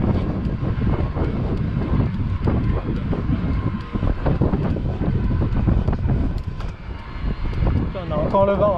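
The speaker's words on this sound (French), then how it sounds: "On a encore le vent en face." Strong headwind buffets the microphone in a steady, loud rumbling roar outdoors, with people talking over it throughout.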